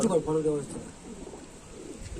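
Allahabadi pigeons coo in low, throaty bursts close by, a clear call at the start followed by softer cooing amid background noise.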